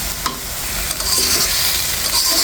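Data greens (kolmi shak) fry in a pan with a steady close sizzle, broken by a few scraping stirs, no voices.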